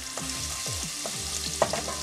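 Garlic sautéing in a little oil in a soup pot, a steady close sizzle with scraping stirring strokes repeating every half second or so, no voices.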